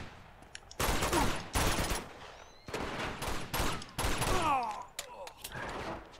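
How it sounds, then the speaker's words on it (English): Enemies fire from behind in Uncharted 2, loud bursts of automatic gunfire in several separate volleys with short gaps between them and mechanical clatter after them. "You do realize there's people right behind you shooting you."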